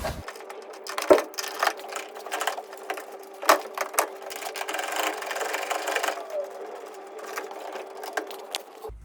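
Ratchet with a 14 mm socket undoing the front seat bolts of an R33 sedan during a restoration, giving close, busy mechanical clicking and grinding that runs almost continuously with a few sharper knocks.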